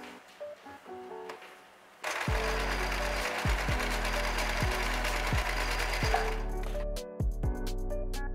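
A sewing machine stitches a child's cloth mask, starting after a short pause with a loud steady mechanical whir and periodic thumps, then stopping briefly near the end before resuming.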